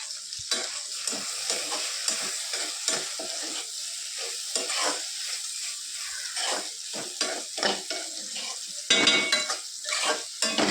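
Food sizzles in a hot pan while a spoon stirs it with repeated scraping, clinking strokes close by, some strokes louder than others, with no talking.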